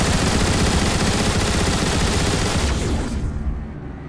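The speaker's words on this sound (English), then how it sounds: "he comes equipped with his ion displacer turret." Ion displacer turret in Transformers: War for Cybertron firing a dense, continuous stream of rapid energy shots, loud and close, then cutting off and trailing away near the end.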